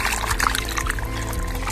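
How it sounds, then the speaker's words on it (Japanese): Cold water pumped up from an irrigation channel pours and splashes close by in a lively, uneven gush, with a low mechanical hum beneath it. "ポンプで水路から汲み上げるようにしております。 非常に冷たい水です。"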